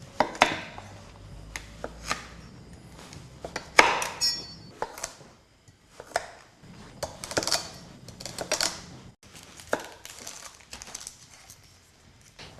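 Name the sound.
roughly chopping vegetables and leek for stock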